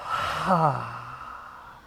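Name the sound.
breathing in through the nose and out the mouth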